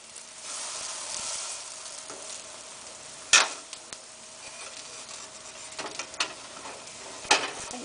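Egg-soaked bread frying in a pan as French toast, a quiet steady sizzle with a few sharp clicks and scrapes of a utensil against the pan.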